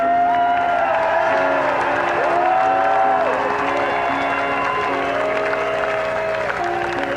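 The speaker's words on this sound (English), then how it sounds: "maybe you can show your appreciation with just a round of applause" Audience clapping steadily and fairly loudly at an evening cultural music event, sustained throughout with a few cheers and whoops rising above the dense applause.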